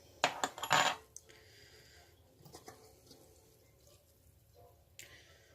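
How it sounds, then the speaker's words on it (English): A well-sealed glass jar being opened in a home kitchen: a quick burst of sharp metallic clinks and rattles from the lid in the first second, then faint handling noises and one soft clink near the end. "See if I can get this jar open. It was sealed very well."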